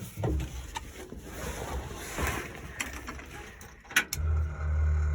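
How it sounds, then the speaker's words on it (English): Electric fuel pump on a 1956 Dodge H6, not started in over 20 years, clicking and ticking after the key is turned, with a few sharp mechanical taps over a low, steady background. "Well, there's the fuel pump."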